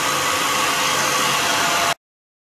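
Heat gun blowing on a foam grip on a custom 130 pole, a loud steady broadband roar of rushing air and fan motor held for about two seconds before cutting off abruptly into silence.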